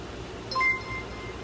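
Mobile phone notification, a short, faint, high chime lasting a fraction of a second, heard indoors over a quiet room background.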